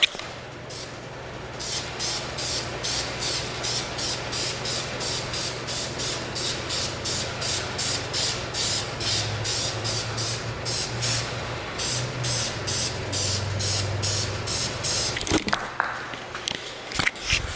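Brake calipers on a Nissan 370Z drift build are spray painted in a long run of rapid, even hissing bursts from an aerosol can, loud and close, with a low steady hum underneath.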